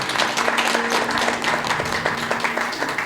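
An audience applauding at a celebration in a hall, a sustained patter of many hands clapping at moderate distance, with faint murmuring underneath.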